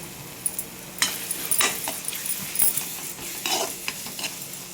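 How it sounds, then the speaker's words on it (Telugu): A spoon stirs turmeric into a tomato masala that sizzles in the pan, giving soft scraping strokes over a faint steady frying hiss, close and fairly quiet, with no voices. "కొంచెం పసుపు వేసుకొని ఒకసారి కలుపుకుంటాం"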